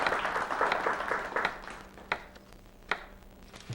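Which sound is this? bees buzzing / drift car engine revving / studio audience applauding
studio audience applauding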